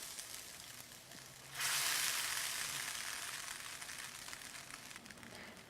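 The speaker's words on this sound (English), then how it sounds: "See, it's on a boil." A flour-and-milk sauce in a pot comes to a boil with a steady, close bubbling hiss that jumps louder partway through and keeps going without any talk.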